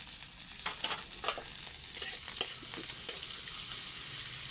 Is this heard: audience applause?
no